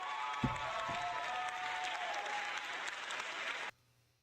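An applause sound effect plays on a live stream, a crowd clapping steadily at moderate volume for several seconds and then cutting off abruptly.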